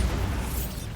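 Bombarda blasting spell from the Hogwarts Legacy video game, a dense rumbling burst of explosive noise sustained across the second, loud and heavy in the low end with no speech over it.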